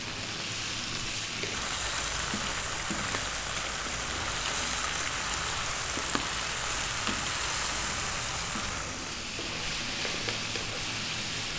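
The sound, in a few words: green vegetables stir-frying on high heat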